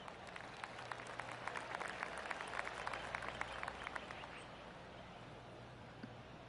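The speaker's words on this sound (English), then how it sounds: "I can hear the golf claps around the course." Scattered golf claps ring out from a gallery crowd around a course in the PGA 2K25 video game, a soft continuous patter of distant hand claps under an ambient wash.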